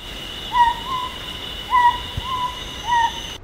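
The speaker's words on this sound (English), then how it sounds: "Pairs of the Principe Scops owl often scream like this in duet at nightfall." Principe scops owl calling at nightfall, a pair dueting: three repeated screeching, wavering call pairs, clear and close over a steady high insect-like hum, with no talk.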